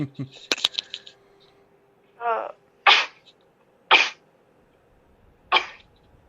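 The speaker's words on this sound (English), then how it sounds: "Now I'm going to sneeze." A sharp sneeze breaks out after some light clicks and shuffling, followed by two more quick, forceful sneeze-like bursts spaced about a second apart, close and loud.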